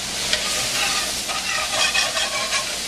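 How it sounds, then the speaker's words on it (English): Carrots and onion frying in olive oil in a pan for a Bolognese sauce, a steady close hissing sizzle with faint stirring scrapes and no talking. "I'm going to add a little bit more olive oil"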